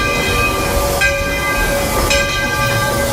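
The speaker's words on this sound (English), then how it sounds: "Just like that, a train pulled in" A railroad train at Magic Kingdom in Orlando pulls into a station with a steady loud rumble, tonal whistle or horn-like tones sounding through it and brief shifts in pitch about every second.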